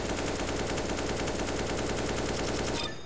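An AK rifle in Counter-Strike: Global Offensive is fired in one continuous full-auto spray, a rapid, even stream of loud shots that cuts off abruptly near the end.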